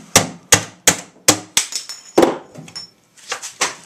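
Several sharp metallic whacks in a steady series drive a door latch into place, each strike loud and close with short ringing decay, followed by quieter clicks and scraping.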